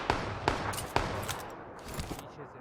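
Heavy gunfire crackles in PUBG PC Lite, with several sharp, evenly spaced shots followed by fainter bursts as the firing trails off, all fairly distant and fading.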